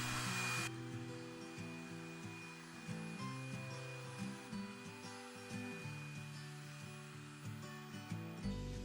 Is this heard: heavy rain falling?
no